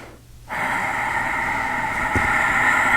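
Ujjayi yoga breathing during a guided flow: a steady, rushing breath sound starts after a brief quiet moment and holds evenly, close and fairly loud, with no talking.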